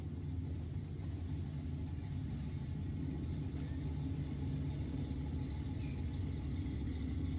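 Race car with a 415 small block engine revving for a burnout to heat the rear tyres, a loud continuous low rumble holding steady and close throughout, with no talk over it.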